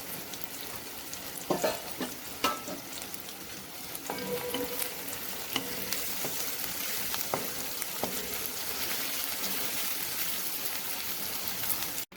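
Onions with salt frying in oil until golden, a steady close crackling sizzle with scattered stirring scrapes, louder after the first few seconds and heard without talk.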